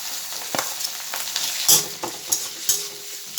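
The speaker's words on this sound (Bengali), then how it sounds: "পেঁয়াজটা ভাজা ভাজা হয়ে এসছে, এবারে একে একে এই যে মাংসগুলা দিয়ে দিচ্ছি।" Chicken pieces go into a pan of fried onions, giving a steady close sizzle with sharp clinks and scrapes of a spatula as the pieces are stirred.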